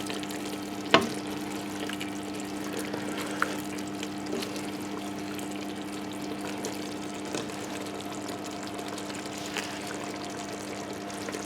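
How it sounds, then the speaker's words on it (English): Chili con carne stirred in a pot after an hour in the oven, a soft, close scraping and gentle bubbling under a steady low hum, with one sharp knock of the spoon early on and a few faint taps after. "I'm going to give our chili another stir."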